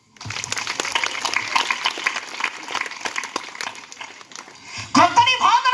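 A church congregation claps together, a dense steady wash of many hands ringing out loud before a voice starts talking near the end.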